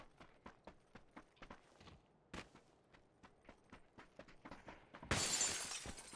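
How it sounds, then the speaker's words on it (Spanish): Glass shatters loudly in PLAYERUNKNOWN'S BATTLEGROUNDS, a sudden bright crash arriving near the end after a run of evenly spaced footsteps in the game. "Intentad no romper cristales cuando no sepan de vuestra existencia."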